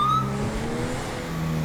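A police car engine in GTA V drones on in a steady, rough, uneven hum, sounding faulty and close, with no talking.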